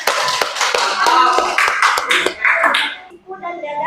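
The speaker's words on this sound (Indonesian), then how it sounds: "kasih tepuk tangan ya." A group of students clapping their hands together during a school fitness activity session, a run of sharp, fairly loud claps that trails off near the end, with a voice heard over it.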